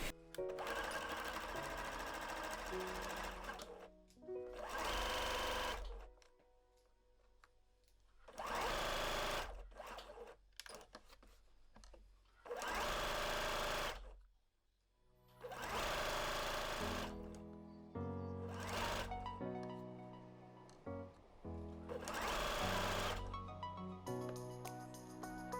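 A sewing machine stitches fabric for a fabric pouch in repeated bursts of a few seconds each, its whirring motor starting and stopping between pauses, close and clear with no talking.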